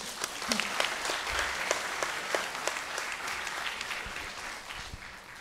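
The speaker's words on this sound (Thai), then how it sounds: "ขอเสียงปรบมือด้วยค่ะ" Applause from an academic seminar audience on Thai art history follows a lecture by an associate professor, a steady mid-level patter of many hands with scattered sharper claps, fairly close and continuous throughout.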